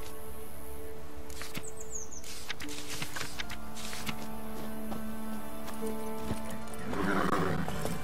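Roach, a horse in The Witcher 3, neighs and whinnies over steady clip-clop hoofbeats, with a louder rustling burst near the end; no talk is heard.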